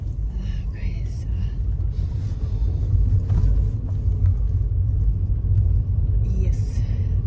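Car interior rumble while driving around the streets of Gibraltar, a steady low road and engine drone throughout with faint higher noise at moments, no clear speech.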